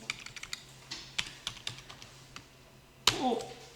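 An Excel formula is typed on a computer keyboard in quick, uneven keystrokes, crisp and close, ending in a louder clack near the end, with no speech over it.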